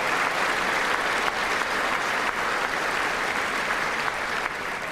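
Sustained applause heard through a State of the Union broadcast at a watch party, an even, continuous wall of clapping for the full span with no voices above it.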